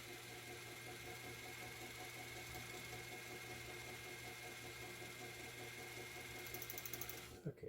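A pink Adler Class 15 clone sewing machine winds a bobbin in a steady, even, low whirring hum that runs throughout, fairly faint and close, with a brief clunk at the end.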